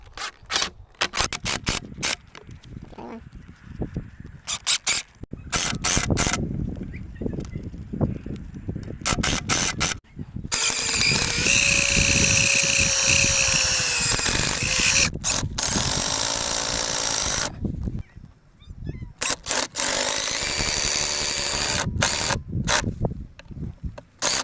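Power drill driving two screws into a wooden fence corner post, heard as repeated bursts of whirring and ratcheting with a long sustained run in the middle, close and fairly loud, separated by short pauses and handling clatter.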